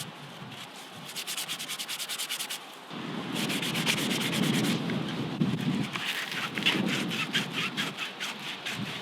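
Hand sanding of a silver birch wood spoon, rhythmic back-and-forth rasping strokes close to the listener, continuing steadily with brief pauses between passes.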